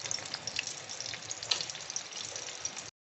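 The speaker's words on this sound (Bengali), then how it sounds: "এরকম করে আমি সব কটা ভেজে ফিরে আসছি।" Eggs frying in oil in a pan, a steady close sizzle with scattered pops and crackles, running alone and ending abruptly.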